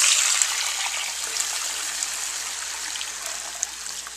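Water pours steadily into a cooking pot over a pork roast resting on a small grate, a continuous close splashing gush that holds at an even level for about four seconds with no voices.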